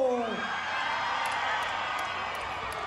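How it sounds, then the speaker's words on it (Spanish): A crowd at a village jaripeo festival keeps up steady, loud applause and cheering with scattered whoops and sharp whistles, following a brief voice at the start. "Aplauso para la chica de rojo."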